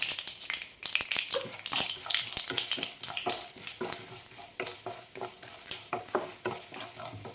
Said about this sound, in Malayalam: ഇതിലേക്ക് ഞാൻ ഒരു ടീസ്പൂൺ ഉഴുന്നും ഒരു ടീസ്പൂൺ കടലപ്പരിപ്പാണ് എടുത്തിരിക്കുന്നത് അതുകൂടെ ഒന്ന് ഇട്ട് കൊടുക്കാം